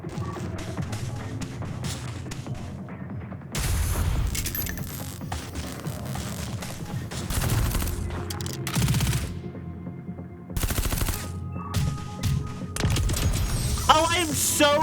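Machine gun and sniper fire in the turn-based game Reverse Collapse: Codename Bakery, loud bursts of gunfire in separate blocks with short quieter gaps, alongside metallic clinks and a talking voice.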